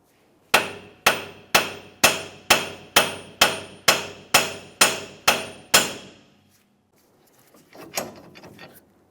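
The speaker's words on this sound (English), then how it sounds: "Now we'll continue on with a hammer." A hammer pounds the steering knuckle of a 2007-2018 Jeep Wrangler to free the ball joints, with eleven loud, evenly spaced metallic strikes ringing close by, then fainter clatter of metal parts shifting.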